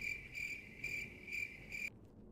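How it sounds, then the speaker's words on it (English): A cricket chirping sound effect plays over a livestream: five steady, evenly spaced trills at a moderate level that cut off abruptly near the end, leaving a quiet background hum. "I must have accidentally pushed the cricket button."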